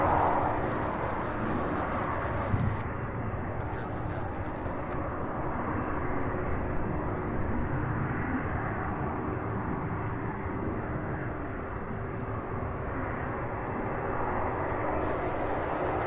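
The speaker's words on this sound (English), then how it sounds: "This is our first 747 Queen departure." A Boeing 747 freighter departs Louisville International Airport bound for Cologne, its steady jet engine roar filling the whole stretch at a constant loudness, with a faint high whine over the top.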